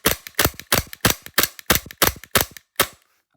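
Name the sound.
Tokyo Marui G19 airsoft pistol firing 50 shots in a row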